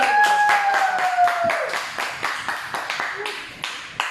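Hand clapping from a small group at a Huawei MatePad Pro product presentation, quick irregular claps starting under a voice and fading into sparser, distinct slaps, fairly close.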